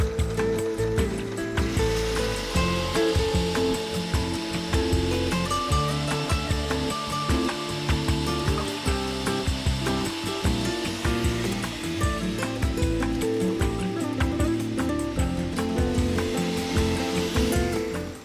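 A blender set to stir churns frozen strawberries with sparkling rosé, giving a steady, close, chunky grinding whir with rattling ice-like knocks that keep going the whole time.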